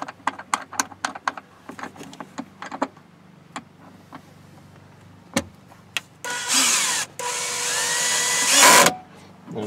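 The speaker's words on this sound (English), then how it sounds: "I set my drill so that the little torque clutch there kicks in and you don't have to worry about stripping anything out." A power drill set with its torque clutch runs in a sustained whir on the liftgate of a 2014 Chevy Traverse, preceded by a series of sharp clicks and taps, all close with no talking.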